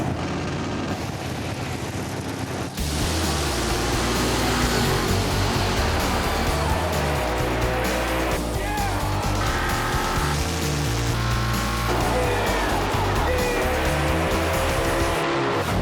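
Drag racing cars, a Mopar among them, launch four-wide down the strip at ZMax Dragway, a loud sustained engine roar with tire squeal that swells and holds throughout, with no voices.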